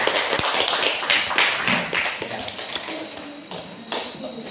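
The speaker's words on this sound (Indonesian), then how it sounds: "Kita tepuk tangan dulu untuk kelompok 2." Group of students in a classroom clapping for a team after its presentation, a busy patter of hand claps and taps with a few louder thumps, moderately close and steady throughout.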